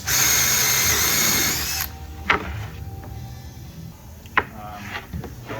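A power drill whines loudly and steadily while boring pilot holes in a board, then cuts off, followed by a few sharp knocks and handling clatters up close.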